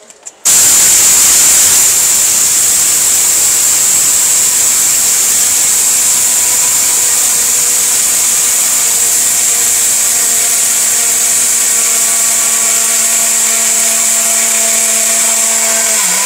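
A stainless steel electric blender runs continuously at high speed, a loud, steady whirring motor whine that starts abruptly and holds for many seconds with no talk over it.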